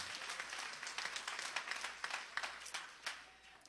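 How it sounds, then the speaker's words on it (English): Church congregation clapping their hands in praise during a service, a fairly quiet, continuous patter of many hands with a loose, slightly pulsing rhythm and no talking over it. "give him a hand clap of praise tonight"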